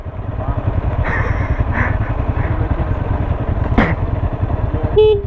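A motorcycle engine runs steadily up close, a low chugging idle rumble that holds for the whole stretch, with a brief whine and a few small clattering noises on top.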